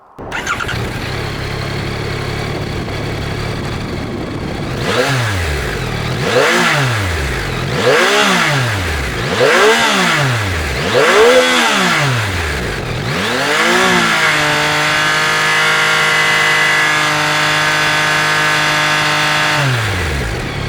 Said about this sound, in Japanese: はい、ではエンジンかけてみようと思います。